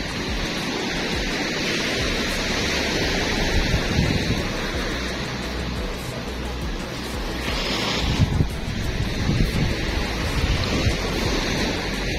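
Sea waves wash in a continuous broad roar, with wind buffeting the microphone and a slight swell around the middle.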